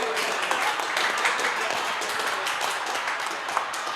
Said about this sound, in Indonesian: Tepuk tangan untuk komunitas Pandit Indonesia